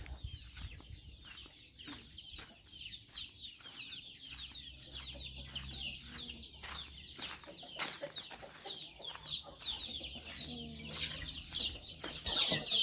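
Chickens being caught for sale cluck steadily in a rapid, chattering run, with occasional wing flaps and a louder squawk near the end, fairly quiet overall.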